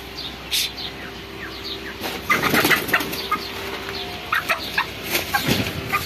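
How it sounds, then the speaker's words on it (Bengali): Broiler chickens about two kilos each cluck and squawk while scurrying and flapping their wings in a poultry shed, with a busy burst of movement and calls in the middle and end. "মুরগিটা ছোটাছুটি করছে, যা বাইরে যা।"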